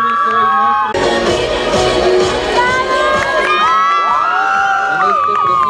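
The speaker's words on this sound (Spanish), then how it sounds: "Fuerte el aplauso de todo el público." A school pageant audience in Valparaíso, Zacatecas, bursts into loud cheering and applause as the queen is crowned, with whoops and high-pitched children's shouts rising over the clapping at close range after a brief voice at the start.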